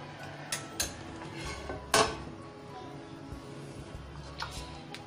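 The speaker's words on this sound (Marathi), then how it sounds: "हलवा चांगला वर खाली करावा" A pot of Maharashtrian stuffed brinjal curry is stirred with a metal spoon, giving a few sharp clinks and scrapes against the pot over a low simmering background.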